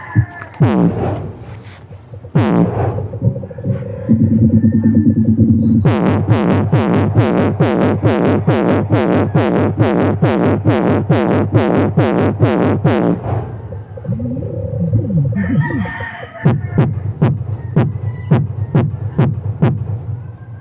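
Deep, booming bass pulses from a sound system speaker box repeat in a steady rapid rhythm, loud and close, with a few pauses and a later sparser run of hits.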